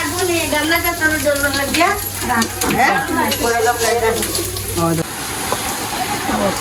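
Fish roe fries in a pan during village-style cooking, making a continuous sizzle beneath a person talking throughout.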